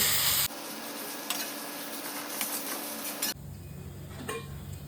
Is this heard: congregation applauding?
no